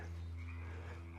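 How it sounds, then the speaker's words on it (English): A dense chorus of many frogs or toads croaks steadily from somewhere off to the side, a low continuous pulsing drone with no talk over it. "there's like a bazillion frogs or toads behind me."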